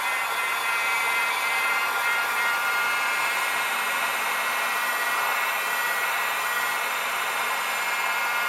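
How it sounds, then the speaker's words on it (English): A heat gun blows a continuous, loud, even hiss of hot air onto the glued back of a Xiaomi Mi 10 Ultra phone during a battery replacement, steady throughout with no pauses. "If you want to reactivate a little bit of the glue, you can give it a short heat blow"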